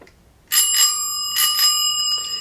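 A handheld bicycle bell used as a studio sound effect rings in two quick double bursts, bright metallic rings that leave a sustained shimmering tone decaying between strikes, close and loud with no voices.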